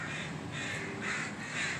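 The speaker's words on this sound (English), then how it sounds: "now the crows are all Warning each other" Crows caw repeatedly outdoors near an RCMP detachment on Vancouver Island, their harsh calls rising and falling at moderate distance over steady background noise.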